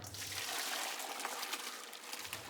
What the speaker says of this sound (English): we're gonna drain out our pasta